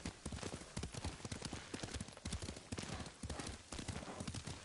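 Hooves of a horse being ridden in the game Ghost of Tsushima, a steady galloping clip-clop in repeating triplet bursts, close and fairly quiet, heard on its own without talk.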